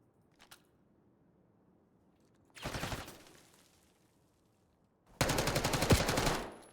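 Gunfire in the video game Black Ops 6 comes as a faint early pop, then a short rapid burst, a pause, and a longer, louder rapid burst of close shots.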